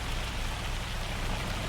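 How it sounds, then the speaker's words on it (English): Hail in Farming Simulator 25 falls as a steady, dense patter of hits, loud and even throughout with no pauses and no voices. "Thanks to all the hail."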